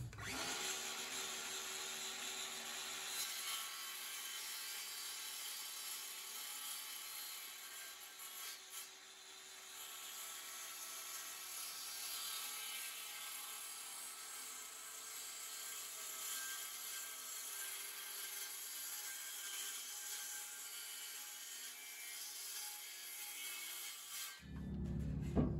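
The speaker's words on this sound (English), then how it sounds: "I'm going to put a 25-degree bevel on the riser" A power saw cuts a 25-degree bevel into the wooden riser of a dog ramp, a loud steady whining drone of blade through wood that holds for most of the run, then spins down and stops abruptly near the end.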